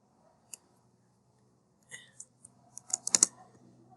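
Clicking keystrokes on a computer keyboard while writing C++ code: one isolated tap, then a pause and a quick irregular flurry of close, crisp key presses.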